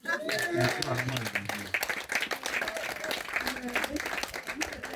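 A church congregation at a Sunday worship service cheers and claps for Jesus, a dense burst of applause and shouting voices filling the hall, with a voice rising above it near the start.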